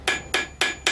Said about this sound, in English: I'm just going to hammer out the petals